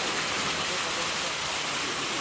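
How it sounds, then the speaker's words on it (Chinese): Heavy rainwater after a typhoon pours down a school's stairs, a dense, loud, unbroken rushing wash like a waterfall, steady and close with no pauses. "大量雨水冲刷而下"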